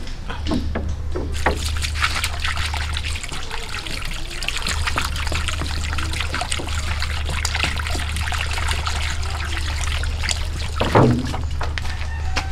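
Water poured into a wok holding pork belly outdoors, a steady trickling splash running throughout over a constant low hum, with a brief louder gush near the end.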